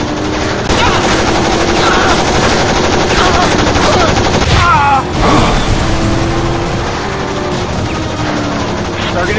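Video game gunfire, with sustained rapid machine-gun bursts blending with a vehicle engine roar in a loud, dense, continuous barrage.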